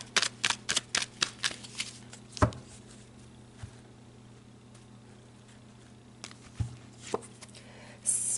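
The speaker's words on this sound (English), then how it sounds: "let's pull some more cards" Tarot cards being shuffled nearby in a quiet room, a quick run of crisp riffling slaps and flutters at first, then sparse soft card sounds with a low steady hum underneath, and a few more shuffles near the end.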